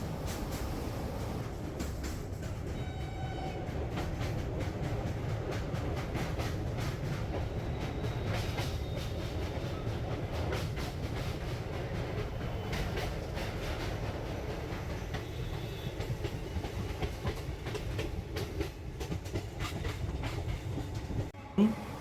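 The 03114 Banaras–Sealdah special fare train rolls past the Narkeldanga car shed near Sealdah, heard from on board as a steady rumble with rhythmic clickety-clack of wheels over rail joints and a brief thump near the end.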